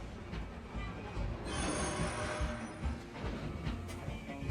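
Train rolling along rails in the Red Dead Redemption 2 video game, a continuous loud rumble of wheels with rising metallic squeal and hiss, steady throughout with faint voices underneath.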